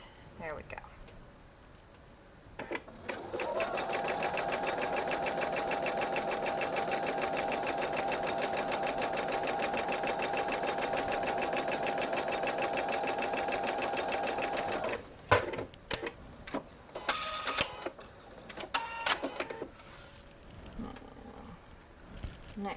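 A sewing machine runs steadily for about twelve seconds, stitching a seam on a patriotic disappearing nine patch quilt, then gives way to short bursts of handling noise and brief stitching near the end.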